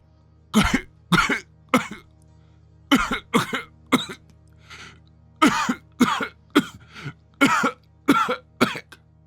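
A person coughs in harsh, rasping fits, several hacking coughs in quick clusters separated by short pauses, close and loud.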